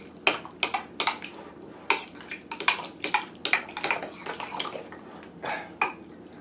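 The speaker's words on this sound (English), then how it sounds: "you just take your spoon, kind of cut it in the center" A spoon strikes and scrapes against a dish over and over in irregular bursts while cutting through food. The clinks are sharp, close and uneven in spacing, with no talking.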